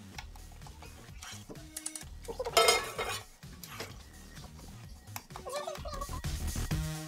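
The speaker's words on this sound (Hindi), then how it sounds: "इसकी गुठलियाँ अगर पड़ गई हैं तो इसे हम अच्छे से चमचे से ख़त्म कर देंगे" A metal spoon scrapes and clinks against a pan while roasted gram flour is stirred for besan katli, with irregular close scraping and knocking under a person talking.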